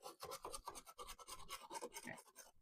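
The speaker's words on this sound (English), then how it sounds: "I got a stiffer plastic brush here. Just going to give everything a good brush just to loosen up all of that" A stiff plastic brush scrubbing residue from battery terminals in a vintage handheld poker game, giving quick, close, rhythmic rasping strokes at low volume, alone.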